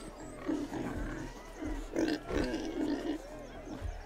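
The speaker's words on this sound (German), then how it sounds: "Sind die Schweine eingepfercht?" Pigs grunt in a farmyard in the video game The Witcher 3, giving short, repeated oinks and snorts in uneven bursts at moderate loudness, with no speech over them.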